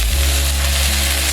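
Chopped spring onions hitting a chicken and vegetable stir fry, giving a brief loud steady sizzle close up with a low hum beneath and no talk.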